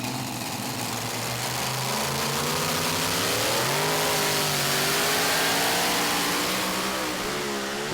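Modified pulling tractor, a new Danish Eurocup entry bought in the United States, roaring at a tractor pulling event in Bouconville; the loud engine climbs steadily in pitch with a sustained, continuous revving drone and no speech.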